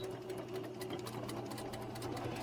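Sewing machine stitching quilt blocks, a quiet, steady rapid whir of needle strokes running evenly without pause.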